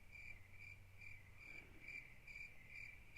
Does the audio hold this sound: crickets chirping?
yes